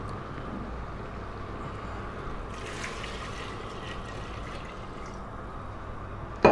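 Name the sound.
pouring water into pot for bone broth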